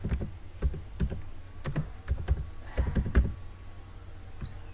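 Keys clatter on a computer keyboard in irregular bursts of close, crisp clicks, with short pauses between clusters of keystrokes and no talking.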